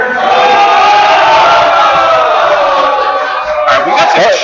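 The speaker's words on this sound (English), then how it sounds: "Alright, we got some cheering" A crowd cheers loudly at a men's curling bonspiel during top-four event finals, a sustained swell of voices and shouts lasting several seconds before easing slightly near the end.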